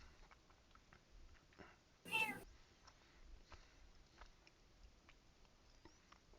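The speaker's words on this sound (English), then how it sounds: "I heard a meow." A short, sharp cat meow rings out once, quick and fairly close, over a quiet room with faint scattered taps.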